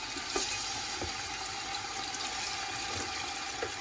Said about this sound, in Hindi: अच्छा ये बेबी लैम्प, इसको थोड़ा सा फ्राई होने के लिए छोड़ा जा रहा है, जब तक तेज आंच पे